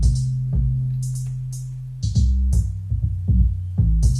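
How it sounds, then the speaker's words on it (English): 808 bass line of a rap beat: deep booming sub-bass notes sliding between pitches, with crisp hi-hat and snare hits on top, loud and close in a slow bouncing groove. "On top of the drum breaker, the 808's bass line goes like this."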